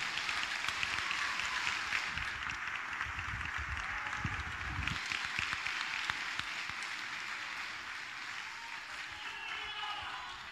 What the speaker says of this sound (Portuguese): A igreja aplaude ao Senhor Jesus.